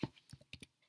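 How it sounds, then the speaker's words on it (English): A few quick keystrokes on a computer keyboard as a networking command is entered, sparse separate clicks with short gaps, close and faint, no talking. "I will be typing ifconfig"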